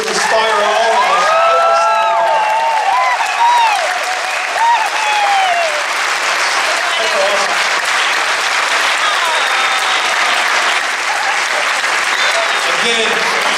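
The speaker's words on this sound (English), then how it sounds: "How about one more round of applause for these kids who inspire all of us?" Long, loud round of applause at a school recognition event for the honoured kids, dense steady clapping with cheers and shouts early on, and voices mixed in throughout.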